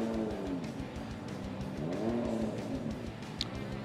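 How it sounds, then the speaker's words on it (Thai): Nissan Skyline GT-R R32 BNR32 four-wheel-drive race car running in a qualifying event, a steady engine drone with rising and falling revs and a brief sharp tick near the end, heard from a moderate distance with no talk. "ขับเคลื่อน4ล้อครับ Skyline GTR R32 BNR"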